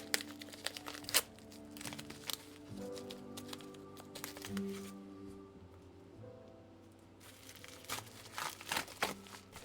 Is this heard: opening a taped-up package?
yes